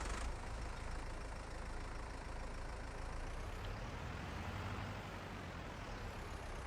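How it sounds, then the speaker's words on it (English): Tractor engine in Farming Simulator 22 drones at a steady low idle, a constant rumble with no talk, level and unchanging throughout. "Obviously, we'll use the same tractor."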